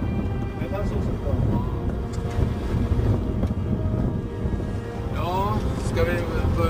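Steady wind buffets the microphone with a constant low rumble in the Stockholm archipelago, and a few faint high squeaks or cries rise near the end.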